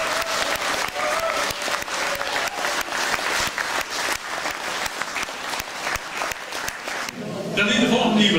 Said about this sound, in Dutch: een paar applaus te maken voor hen